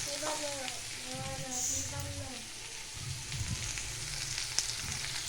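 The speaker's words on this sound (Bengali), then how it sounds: "একদিকে মশলা কষানো হচ্ছে ডিম ডালের জন্য" Spices frying with ginger, garlic, chili and cumin for an egg and chana dal dish, giving a soft, steady sizzle in the background while a voice briefly sings over it.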